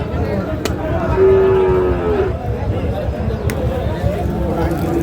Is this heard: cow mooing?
yes